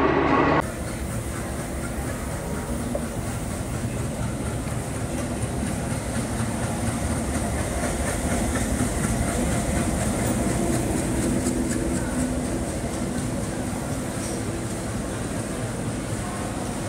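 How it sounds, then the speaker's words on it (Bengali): The 12301 Howrah–New Delhi Rajdhani Express rumbles steadily on the rails for the whole stretch, a loud, continuous roar with faint rhythmic clickety-clack from the wheels, heard from close by with no talk. "নিউ দিল্লি যাওয়ার ট্রেন 12301 হাওড়া নিউ দিল্লি রাজধানী এক্সপ্রেস ভায়া গয়া"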